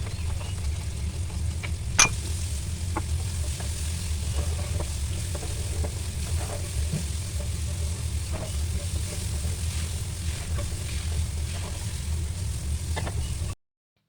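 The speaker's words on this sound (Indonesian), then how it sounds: "lalu kita mulai panasin minyak, dan kita mulai juga tumis si bumbu yang udah kita ulek tadi sampai dia matang" Ground spice paste sautés in hot oil as a filling for panada pastries, giving a constant even sizzle over a low steady hum, with a few faint clicks and one sharp tap near the start.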